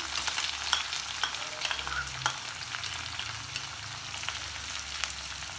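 Garlic and onion frying in a pan produce a continuous, fairly soft sizzle with small pops and occasional stirring scrapes, steady throughout with no voices.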